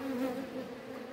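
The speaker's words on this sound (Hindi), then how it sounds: "पोलन लाते हुए मधुमक्खियाँ।" Indian native honeybees buzz steadily in cold weather as they return with pollen, a close, continuous drone with no other sounds.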